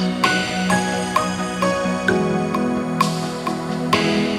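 Worship song backing multitrack with sustained piano chords and an electric guitar lead over a steady pulse, full and even in level with no voices.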